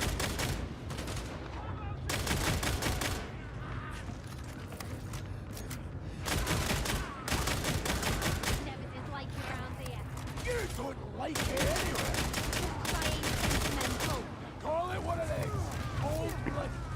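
Pistol fire in the Warhammer 40,000: Darktide game, loud repeated bursts of rapid shots in clusters with brief gaps, mixed with game effects and occasional voices.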